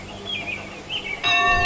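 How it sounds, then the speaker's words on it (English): Toby the tank engine rings his bell loudly in a Thomas and the Magic Railroad redub, a bright sustained ringing tone bursting in near the end over a faint, busy background. "Toby rang his bell as loud as he could"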